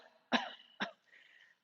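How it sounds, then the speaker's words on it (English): Two deliberate coughs from a person in a yoga-for-mothers class, a strong one followed by a shorter second cough, close and clear in a quiet room with a faint breathy trail afterward. "And then I want you to cough."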